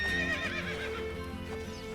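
A horse whinnies in the video game Assassin's Creed Brotherhood over steady background music, its neigh rising and wavering briefly before fading.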